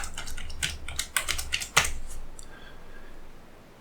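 Keys clatter on a computer keyboard as a file name is typed, a quick irregular burst of crisp close clicks that trails off into quiet hum.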